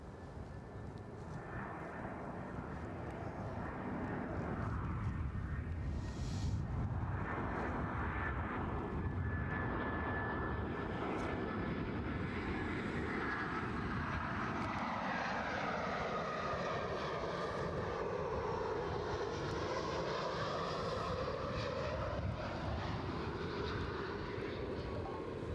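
A Lufthansa airliner lands at Edinburgh Airport, its engine roar swelling to a loud, sustained rumble with a descending, whining sweep as it passes and rolls out.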